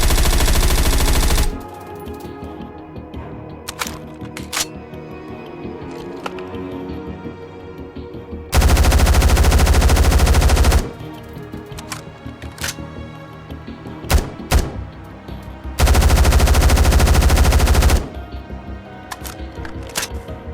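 Rapid automatic gunfire bursts in the video game Method of Entry, fired with different weapon attachments: three loud sustained full-auto strings lasting a few seconds each, separated by quieter stretches of clicks, single shots and handling noises.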